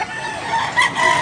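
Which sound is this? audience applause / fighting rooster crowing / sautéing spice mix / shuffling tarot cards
fighting rooster crowing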